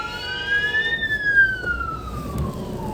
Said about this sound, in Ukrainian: зараз йде швидка по зустрічній.